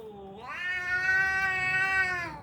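A cat gives one long, loud meow close by, starting low, then rising and holding a strained, drawn-out tone before trailing off, with no other voices.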